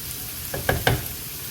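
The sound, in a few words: peppers and tomatoes sizzling in pan while stirred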